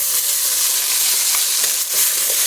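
Spice paste of ground cumin, ground coriander, ginger and green chili hits hot oil in a pan, giving a steady close sizzle with brief crackles and no voices.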